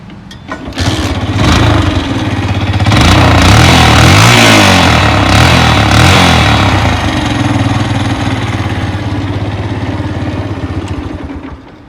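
A loud Bajaj Boxer motorcycle engine fires up after a second and keeps running at a rough, throbbing idle, close by, with a few revs.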